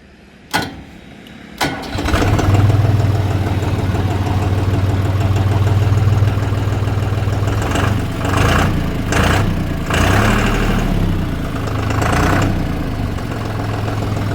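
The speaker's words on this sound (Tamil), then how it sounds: "நான் டர்போ இன்ஜினே பாருங்கள், சவுண்ட் ரொம்ப கம்மியாக இருக்கும்." A Deutz Fahr Agrolux 55e 4WD tractor's turbo diesel engine idles steadily with a low, even rumble after a couple of sharp knocks at the start, with faint metallic clatter over the hum.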